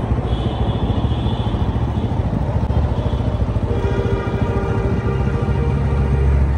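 A modified TVS Apache RTR 160 motorcycle fitted with an MT-15 chain sprocket is ridden, its engine giving a steady close throbbing drone with road rumble throughout.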